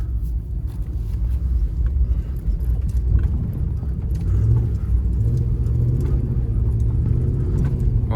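A Ram pickup truck with stability control switched off drives and drifts, giving a steady, loud low rumble of engine and road noise throughout with no clear peaks.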